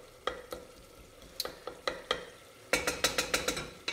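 Potatoes and ditalini pasta frying in a pot, a soft sizzle under a series of sharp spoon strikes against the pot as it is stirred, ending in a quick run of scraping taps.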